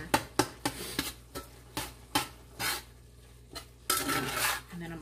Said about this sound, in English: So I'm just going to let those flavors get simmered into the meat.